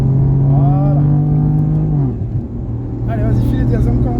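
Car engine on a race track held at light, steady throttle, a droning in-car hum that dips briefly and then picks up again, with a coach's voice talking over it.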